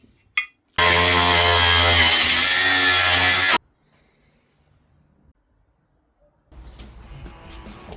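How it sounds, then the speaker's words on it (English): A power drill bores holes while an old IMT 533 tractor is being rebuilt: one loud, steady whining burst of about three seconds, close by, followed by near silence and then a low, uneven clatter. "We drill the holes."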